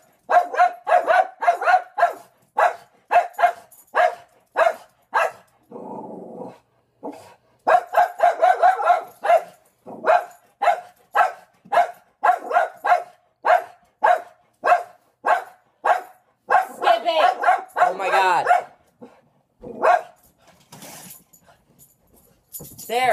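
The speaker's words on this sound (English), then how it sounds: "There's a dog outside the window." A dog barks repeatedly at a window, loud and close, in rapid bursts of sharp barks with short pauses between them, continuing for the whole stretch.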